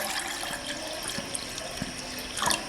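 Water is poured into a small cooking pot as a steady close stream with faint splashes, swelling slightly louder near the end, with no talk over it.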